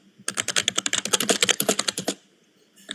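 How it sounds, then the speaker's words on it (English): Rapid, forceful typing hammers a computer keyboard in a dense burst of loud clacking keystrokes for about two seconds, then stops, with no voices. "Yeah, the man is mashing the keyboard."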